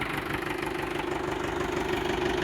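A 2012 Mahindra Bhoomiputra 475 tractor engine idles steadily and close by, a continuous low rumble with a faint knocking pulse and no talk over it.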